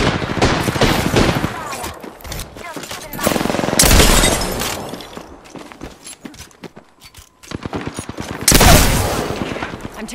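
Video game gunfire in loud bursts of rapid shots and clattering impacts, some close and some trailing off, with a quieter lull in the middle and speech mixed in.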